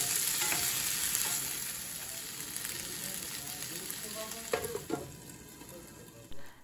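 Tomato, ginger and garlic frying in hot oil in a pan, giving a steady close sizzle with a few stirring clatters and a louder scrape near the end.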